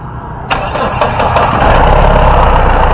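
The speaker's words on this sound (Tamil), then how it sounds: "வண்டியோட இன்ஜின் சவுண்ட் எப்படி இருக்குது அப்படின்றத கேட்போம்" A Mahindra Bolero engine cranks and catches, then settles into a steady, loud idle rumble that continues to the end, with no voices.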